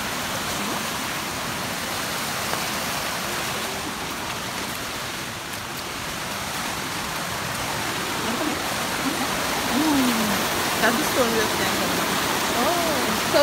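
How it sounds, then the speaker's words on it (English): A river in Grenada rushes past close by as a steady wash of broadband flowing water. The noise grows a little louder toward the end, and some brief faint vocal sounds can be heard over it. "Let me show you guys the river."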